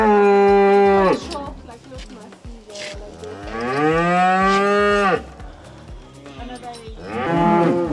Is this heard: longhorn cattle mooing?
yes